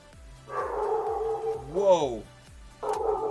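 A dog barks and yelps loudly nearby in a few excited bursts, its voice rising and falling, while steady rhythmic thumping music plays underneath.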